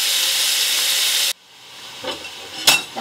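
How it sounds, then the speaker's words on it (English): Pot roast meat searing in oil in a pan makes a loud, close, steady hiss that cuts off abruptly, followed by quiet scrapes and a couple of light knocks. "I like to get both sides with the oil on it there. And I let it sear for like 5 minutes on each side"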